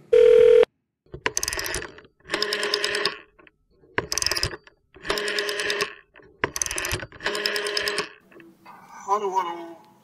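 An incoming call rings a telephone in a podcast studio, a steady electronic ringtone repeating in regular bursts with short gaps, loud and close.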